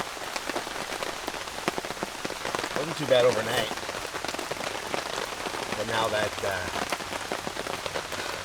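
Steady rain patters on a camping tarp throughout, a continuous hiss with someone speaking briefly over it.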